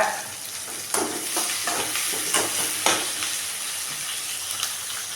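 Onions, green chilies and curry leaves fry in a pan, a steady close sizzle with a few sharper pops and crackles scattered through, no voices over it.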